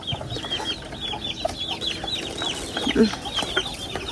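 Chickens cluck repeatedly nearby, a busy flock with overlapping calls and a few sharper squawks against outdoor background noise.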